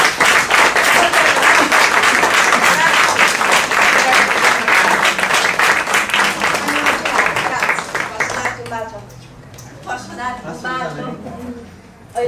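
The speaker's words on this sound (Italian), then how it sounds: "facciamo un grande applauso" An audience at a Japan Day 2018 event gives a big round of applause, with sustained dense clapping from a crowd that tapers off near the end while a voice talks over it.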